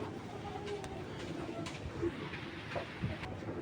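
A racing pigeon coos softly, low and faint under background room noise, with a couple of short murmuring calls and light ambient clatter.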